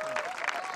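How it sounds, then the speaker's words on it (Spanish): Engineering students applauding at a university event, a short burst of dense crowd clapping heard fairly faintly, with a voice briefly over it. "A ver, un aplauso."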